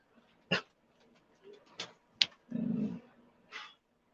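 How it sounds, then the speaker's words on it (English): A dog gives several sharp, separate barks with short pauses between them, fairly close, plus a longer whining yelp near the middle. "Hey, stop all that barking."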